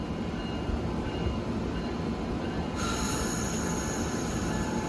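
Amtrak passenger train from Newport News, Virginia rolling past close by, a continuous loud rumble of wheels on rail with a squealing, whining edge that shifts partway through.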